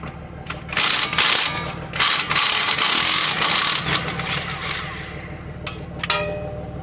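An impact wrench works a suspension bolt on a 2003-2007 Honda Pilot, giving loud, dense mechanical rattling bursts over about three seconds before tapering into quieter clicks and clanks.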